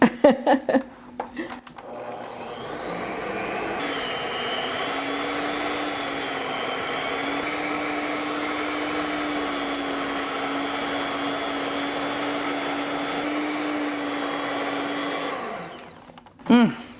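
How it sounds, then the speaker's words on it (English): An electric mixer creaming cream cheese and sugar whirs steadily for a long stretch, starting up after brief clatter and shutting off at the end, loud and close. "let me cream the cream cheese and the sugar together to make a beautiful mixture"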